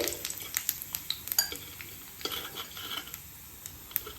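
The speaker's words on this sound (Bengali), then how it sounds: "আগে একটুখানি ভেজে নেব ফোড়নের মধ্যে আমি দিয়ে দিলাম আগে তেজপাতা আর এটা দিয়ে দিলাম আমি জিরে" Bay leaf and cumin seeds frying in hot oil to temper a mixed dal khichuri, heard as a soft sizzle close by with small crackles and pops and light clinks of a utensil against the pan.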